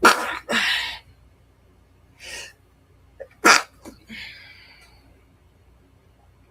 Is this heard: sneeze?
yes